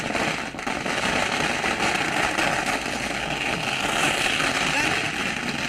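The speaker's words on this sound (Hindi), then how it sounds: "भयंकर आतिशबाजी बीजेपी प्रदेश कार्यालय में चल रही है" Fireworks crackle densely and continuously at a BJP state office celebrating election results, a loud, steady wash of bursts heard under a person speaking.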